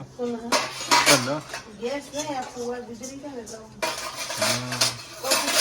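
Pots, pans and utensils being washed at home clink and clatter in scattered bursts, with a person talking over much of the scrubbing.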